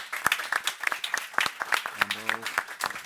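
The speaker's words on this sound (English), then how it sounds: "A round of applause for the panel, please." Scattered applause from a small audience after an energy panel discussion, individual claps distinct and uneven, rising and falling in a loose rhythm, with a voice and a brief tone heard partway through.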